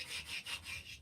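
Wood sanded by hand with a custom sanding block on a brittle piece: close, rhythmic back-and-forth rasping strokes, about four passes in quick succession, no talking.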